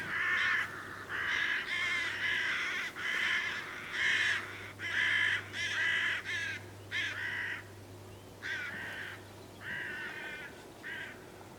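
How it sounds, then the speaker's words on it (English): Hooded crows caw loudly and repeatedly in a steady series of harsh calls, several birds overlapping, close by with a low hum underneath. "all of a sudden there was crows appearing from everywhere"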